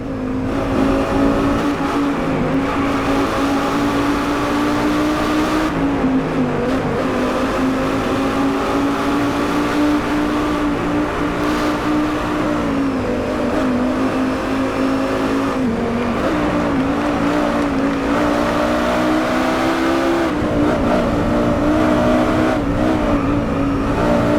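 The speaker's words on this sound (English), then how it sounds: "the engine sounds are different based on which of the 6 camera views you choose" A BMW or Mercedes-AMG race car engine in a driving video game drones continuously at high revs, with brief dips and rises as gears shift, loud and close throughout.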